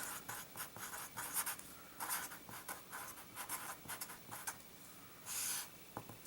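Chalk or marker strokes on a lecture-hall board come in quick irregular bursts of scratchy writing, fairly faint and close, with short pauses between words and a longer stroke near the end.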